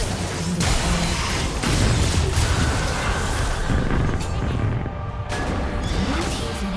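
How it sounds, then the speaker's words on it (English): A turret is destroyed in League of Legends URF mode with a loud crashing boom and rumbling debris, followed by sustained dense game effects and battle noise. "Blue team's turret has been destroyed."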